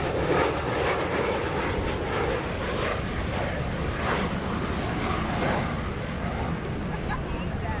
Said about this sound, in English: Notice how quiet the aircraft is as they pass by.